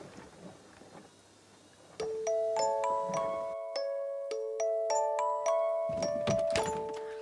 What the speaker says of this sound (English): When the doorbell rings.